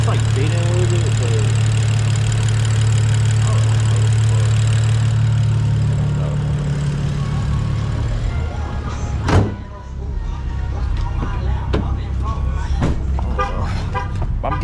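A BMW E92 with an N55 engine and straight-piped exhaust idles with a loud, low, steady rumble that drops away partway through, leaving quieter clicks and handling noises, with speech at times.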